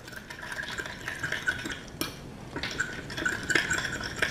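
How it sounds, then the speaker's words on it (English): Stirring a sauce with a little sugar in a pan while making spicy shrimp: soft scraping and swishing strokes repeat at a steady pace, close by and fairly quiet, with a light clink of utensil on pan. "And give that a stir."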